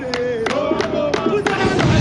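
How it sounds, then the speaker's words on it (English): Zimbabwean cricket fans sing the Muzarabani song in a stadium during an Australia v Zimbabwe T20 World Cup match, a steady crowd chant with repeated rhythmic accents heard in the background under close commentary. "as you can hear the Muzarabani song in the background, Zimbabwean fans are up and about."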